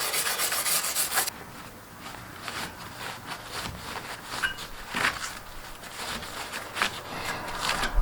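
Hand rubbing across a 1965 Mustang body panel with a rag, wiping it clean before sanding; a steady close scrubbing rasp with repeated strokes, louder at first, then continuing at a moderate level with no talk.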